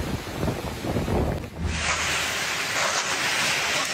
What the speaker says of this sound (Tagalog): Nakaranas din ng malalakas na hangin at matinding pagbuhos ng ulan ang mga residente